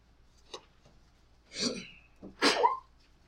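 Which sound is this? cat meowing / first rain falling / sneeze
sneeze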